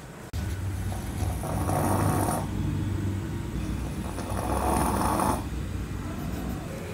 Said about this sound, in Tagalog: Grabe yung hilik pang tao na.